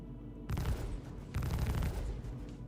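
Gunfire in the space video game Star Citizen, two loud dense bursts of rapid shots separated by a short gap over a steady low rumble, with no talking.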